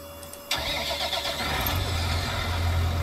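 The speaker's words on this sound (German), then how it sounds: "kurz mit dem LKW fahren und da Nachschub holen." A truck engine in Farming Simulator 19 cranks and catches with a sudden start, then settles into a steady mid-pitched idle with a low rumble, loud and close, no talking.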